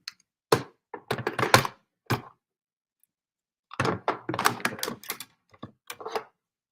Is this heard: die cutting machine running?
yes